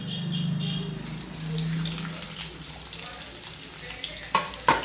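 Onions are dropped into hot oil in a kadai for stuffed bitter gourd, and a rushing hiss of frying builds and continues up close, with a couple of sharp clatters near the end.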